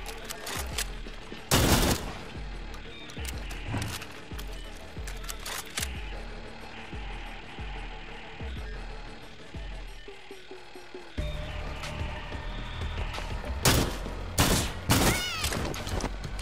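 Gunshots and bursts of fire in the shooter video game Far Cry 6, sharp loud cracks at irregular intervals over a busy ambient game soundscape, with a cluster of heavier shots near the end.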